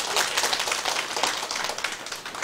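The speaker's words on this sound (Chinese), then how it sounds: "即个拍手啦！" A crowd at a seminar lecture claps hands together in a dense, continuous burst of applause, close and fairly loud throughout, with no voices standing out.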